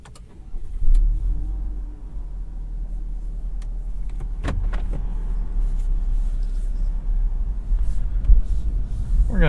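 A 2021 Cadillac CT4-V in Tour mode pulls away, its engine rumbling low and close with a rise in revs, tire and road noise building steadily and faint interior clicks over the drone.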